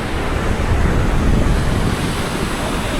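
Waterfall water at Bahubali Falls in Kerala pours in a loud, steady broadband rush that fills the scene, with some wind buffeting the microphone.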